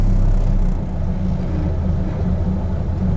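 Car engine at an auction yard idling roughly while still cold, a low uneven rumble that holds steady and close with no talk over it.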